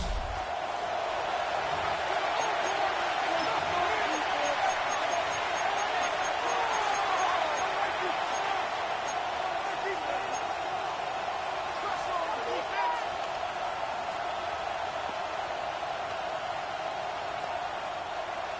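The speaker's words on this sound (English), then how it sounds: "This crowd into it now as we get to 3rd down." Stadium crowd roaring steadily in the Madden NFL football video game as a third down approaches, a dense constant wash of cheering with commentary over it.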